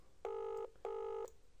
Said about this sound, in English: so now you can hear the phone still ringing